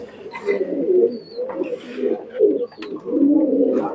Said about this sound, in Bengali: আসো আমরা এই কবুতরগুলো একটু ছেড়ে দেখাই